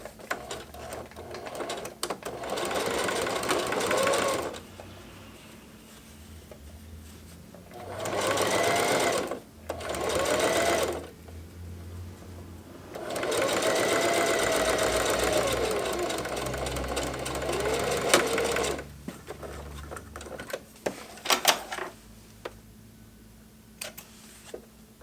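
Sewing machine stitching fabric for a knife roll, running in several bursts of a few seconds each with pauses between, close and fairly loud, plus faint handling noises.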